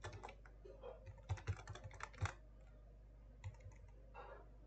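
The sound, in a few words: typing a name on a computer keyboard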